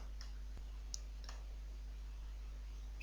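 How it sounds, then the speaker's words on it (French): A computer mouse clicks an OK button on screen, a few faint, sharp clicks in quick succession over a quiet room with a low electrical hum. "je clique maintenant sur OK"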